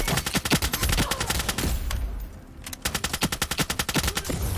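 Rapid automatic gunfire in the online shooter Ironsight comes in dense, loud bursts of evenly spaced shots, with a short lull in the middle before another sustained burst.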